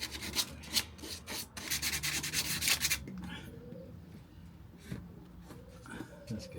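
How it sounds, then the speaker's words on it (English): Rough edges of a tail tidy for a Royal Enfield Hunter 350 motorcycle being rubbed down by hand, quick close scratchy back-and-forth strokes for three seconds, then faint scattered scraping. "I'm just going to rub off the rough edges on there first."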